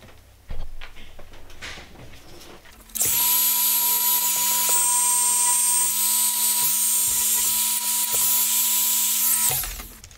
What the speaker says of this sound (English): I'm going to go over with the Dremel just to smooth off some of these edges.